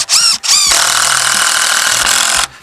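A power drill drives a screw into wood for a garden grow box, with two short whirring bursts followed by a loud sustained high whine that stops abruptly, up close.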